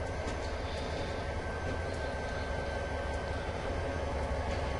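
An MP60 diesel locomotive in Train Simulator on Cajon Pass with Union Pacific yellow livery, a steady loud engine drone and rolling rail noise with a constant whine, continuous and unbroken.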